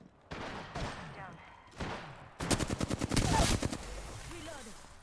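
Automatic weapon fire in the Apex Legends shooter game, a rapid burst of sharp, evenly spaced shots that starts midway and dominates, after short stretches of a voice talking.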